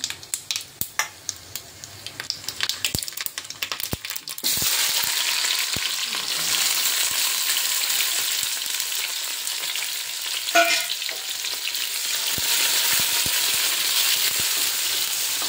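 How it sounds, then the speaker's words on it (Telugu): Mustard seeds frying in hot oil for a curry: a few scattered pops and crackles at first, then a loud, steady sizzle that keeps going, with occasional stirring sounds and no talking. "చిటికెడు ఆవాలు వేసుకుంటున్నా"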